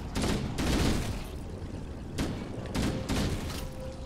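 Bursts of rapid gunfire ring out while shooting swarms of Flood creatures in the Halo video game, several loud volleys in quick succession over a continuous rumbling background.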